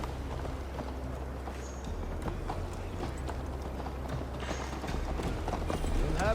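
Horse hooves clip-clop at a steady riding pace in the Viking-era game Assassin's Creed Valhalla, a continuous galloping patter under a low rumbling game soundscape.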